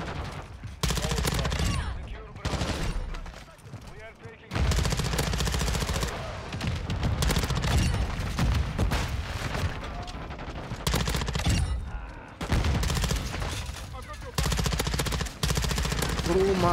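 Bas-P submachine gun fired in Modern Warfare 2, with long rapid automatic bursts broken by short pauses, loud and close, and a voice talking in between.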